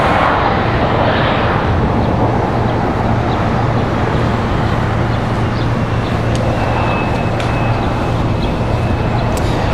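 Airliner noise at Washington Dulles International Airport, a loud, steady broadband roar with a low hum that holds for the full stretch, with no voices.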